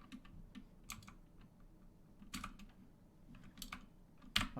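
Computer keyboard typing with scattered clusters of quick keystrokes, fairly faint and close, spread irregularly across a few seconds with short pauses between bursts.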